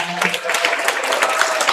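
Applause breaks out in a church congregation during a choir introduction: a brief, dense burst of clapping from many hands with a voice over it.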